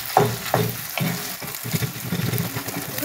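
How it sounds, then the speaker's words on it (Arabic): Minced meat kefta sizzles in a pan with browned onions, and several scraping stir strokes come through close and clear over a steady frying crackle. "غادي نزيد هذه الكفته ونبقى نحرك حتى هذه الكفته تحل"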